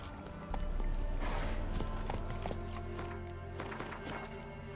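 Roach the horse trotting in The Witcher 3, a soft steady clip-clop of hooves at moderate distance over a low ambient bed.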